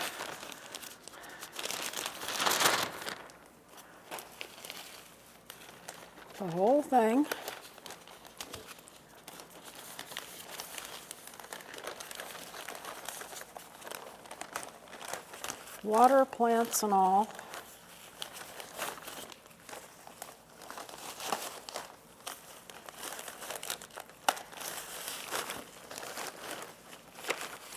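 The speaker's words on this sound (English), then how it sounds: "And I'll put it in a plastic bag." Crinkling plastic bag rustles in bursts throughout, with a person speaking briefly over the handling noise.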